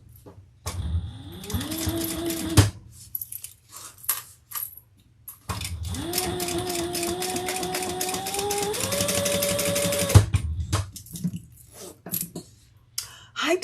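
A home sewing machine stitches across fabric along a pattern in two steady motorized runs of a few seconds each, with a whirring hum that rises in pitch. Short clicks and pauses come between the runs.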